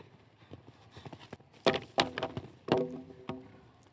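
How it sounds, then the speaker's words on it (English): A 14-year-old mare covers a 1.45 m show jumping course, her hooves landing in a few heavy, spaced thuds that grow louder midway, fairly close and with no talk over them. "It's another horse owned by the Eye Candy Jumpers."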